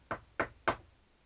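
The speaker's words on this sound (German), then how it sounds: "Knöchel pochten gegen das Holz." Knuckles rap a wooden door three times in an even rhythm, crisp, moderately loud knocks, each with a short hollow decay, followed by quiet.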